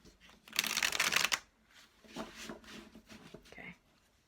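A large deck of cards being shuffled: one loud riffling burst near the start, followed by softer handling and shuffling sounds in a quiet room.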